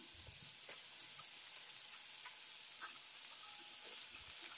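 Mushrooms fry with browned onions in a pan, a faint, continuous sizzling hiss with light occasional ticks, steady throughout and without any voices.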